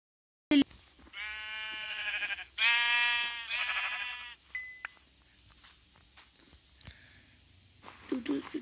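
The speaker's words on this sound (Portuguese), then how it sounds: "Mais uma ovelha. Duas ovelhas." Sheep in Minecraft bleating in a few short, nasal calls, close and distinct, with quieter game clicks and pauses in between.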